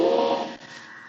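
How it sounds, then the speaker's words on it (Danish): High-pressure washer spraying water to rinse pre-wash foam off a car, a loud steady hiss that eases partway through and carries on at a lower level. "Så tager vi bare lige vores højtrenser"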